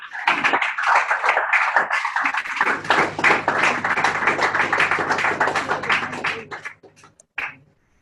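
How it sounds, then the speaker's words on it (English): A room of participants at a youth event in Lagos gives a sustained round of applause for several seconds, clapping dense and close, then it fades out with a few last claps. "And give yourself a round of applause."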